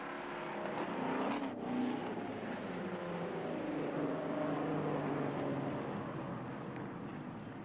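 Stock cars racing around a raceway in 1993, engines droning and roaring continuously at a distance with a steady mechanical hum, one car revving briefly louder as it passes.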